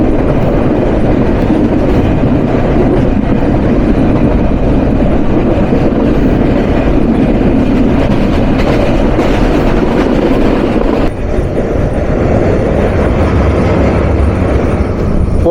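The Chitra Express intercity train runs through Laheri Mohanpur on a Bangladesh rail line, a loud, continuous rumble of wheels and carriages with faint clickety-clack that shifts in tone toward the end.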